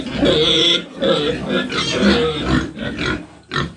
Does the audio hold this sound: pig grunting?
yes